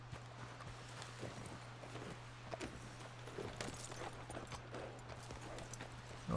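Horse hooves clip-clop steadily in the video game Red Dead Redemption 2, moving away under dense game ambience and a constant low hum.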